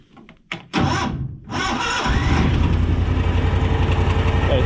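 A Cushman Truckster engine with a carburetor problem sputters on, then settles into a loud, steady running drone with a rough, uneven edge, close by with no talk over it.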